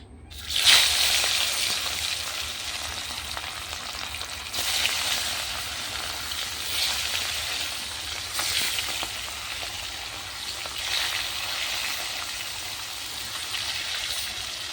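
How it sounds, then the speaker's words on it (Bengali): Fish frying in hot oil over a clay stove, a loud, continuous crackling sizzle that starts with a sharp burst as the fish goes in, then swells and eases in waves. "তেলটা গরম হয়ে গেছে, মাছগুলো ভেজে নেব।"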